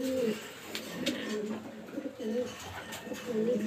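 A hen pigeon coos repeatedly in a loft, soft rhythmic rolling calls close by with faint background noise.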